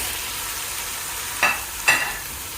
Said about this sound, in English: now we're gonna add the beef and fry it